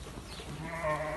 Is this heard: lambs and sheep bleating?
yes